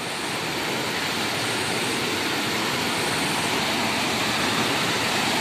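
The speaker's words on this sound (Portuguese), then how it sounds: "Deve ser para admirar aqui é a queda d'água" Steady, loud broadband roar of a waterfall beside a forest trail in a national park near Petrópolis, Brazil, a constant rushing wash of water with no breaks and no voices.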